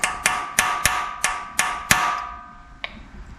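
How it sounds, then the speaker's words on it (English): Hammer blows on a center punch set against a bolt in a junkyard 5.3 engine, seven sharp metallic strikes at an even rhythm, close and loud with ringing decay, then one lighter tap after a pause. "Take a center punch, try and find the center of that bolt"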